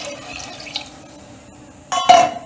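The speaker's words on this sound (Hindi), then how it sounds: "अब इसमें हम 3 कप पानी डालेंगे।" Water is poured into a pressure cooker of red masoor lentils and spices for dal tadka, a short, loud splashing gush that starts abruptly after a quiet kitchen moment and fills the last half second.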